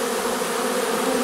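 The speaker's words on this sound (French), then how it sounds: "On voit que les abeilles se dirigent par là-bas" A dense, continuous buzzing hum of a honeybee swarm gathering at a Dadant hive tucked behind stacked pallets, loud and close with no voices.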